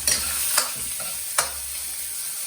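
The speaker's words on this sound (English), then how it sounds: "the onions are cooking really nicely" Onions frying in a pan for sweet and sour chicken, heard as a close, steady sizzle with three or four sharp clinks of a utensil against the pan and no speech.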